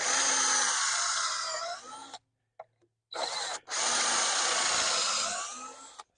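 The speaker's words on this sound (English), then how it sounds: "so I'm putting 2 screws in" A power drill drives screws into wood while framing a greenhouse high tunnel end wall: two loud, close, sustained whirring runs with a short pause and brief blips between them.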